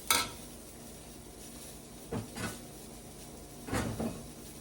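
Kitchen cupboards bang and clatter as someone searches them for a strainer, giving three separate knocks and rattles amid low background hum.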